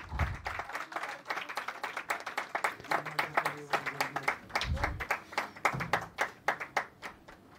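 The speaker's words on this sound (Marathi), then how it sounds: "माईंचा सत्कार होत आहे. टाळ्या वाजवा." An audience at a Pune media conference and journalists' gathering applauds to honour Mai at an award ceremony, a sustained round of clapping from a medium-sized crowd, close and lively, with a voice heard briefly under it.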